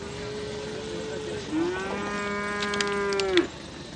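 A calf at a livestock market in Fuzuli gives one long, loud, close moo that rises in pitch partway through and holds, heard alone over a steady background murmur.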